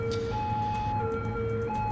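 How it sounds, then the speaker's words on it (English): A steady electronic siren tone in the video game Cities: Skylines alternates between two pitches, looping continuously at moderate loudness over a low engine-like hum. "let's get rid of the siren"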